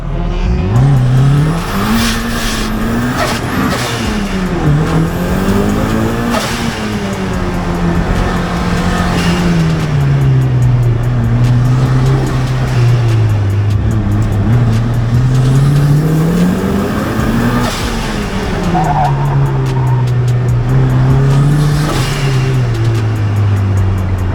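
A 400-horsepower Mazda Miata engine revving hard and continuously during an autocross run, pitch rising and falling as it accelerates and shifts, loud and close with occasional tire noise.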